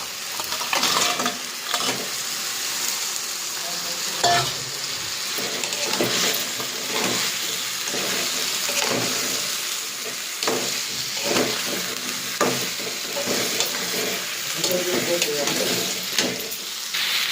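Crabs fry in tomato puree dusted with chili powder for a crab curry, giving a constant close sizzle broken by repeated scraping stirs of a spoon in the pan, with occasional talk.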